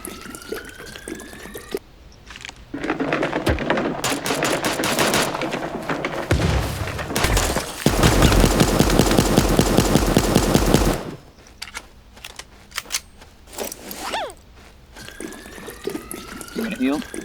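Automatic gunfire in the animal battle-royale video game Super Animal Royale, dense rapid bursts loudest in the middle of the stretch, mixed with game effects and a player talking over it.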